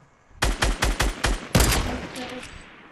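Gunfire in the game Fortnite: a rapid burst of about six close, sharp shots, followed by a louder blast that trails off into a fading rumble.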